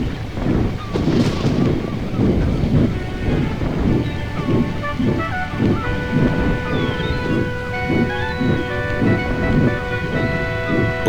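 A thunderstorm in the Trainz railway game brings heavy rain and gusting wind, with rumbles of thunder rolling through. Rhythmic tonal layers sit over the storm noise throughout.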